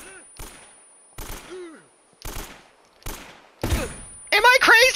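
Gunfire in the video game Uncharted: Drake's Fortune, heard as four or five sharp, spaced bursts, some followed by short vocal sounds. A denser, louder burst of game sound arrives at the end.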